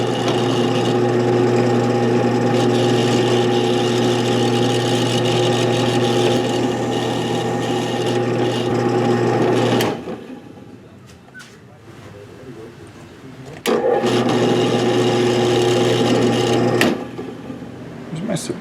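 A 3/8 inch bit drills into a wooden shark lure, the tool whining steadily for about ten seconds, pausing, then running again in a shorter second burst, loud and close.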